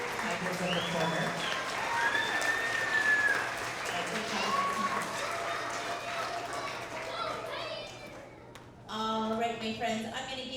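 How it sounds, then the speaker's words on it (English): A school audience at an end-of-year kindergarten to second-grade award assembly gives a round of applause for second-grade students, a moderate, steady patter of many hands with voices mixed in before it fades and speech resumes. "Let's have a round of applause for all of our second grade Tigers of the Quarter."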